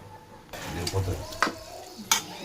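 A paneer dish simmering on a low flame in a pan, with a steady soft sizzle and occasional louder stirring scrapes and clinks of a spoon against the pan, close and fairly quiet.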